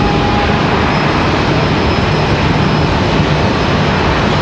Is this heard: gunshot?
no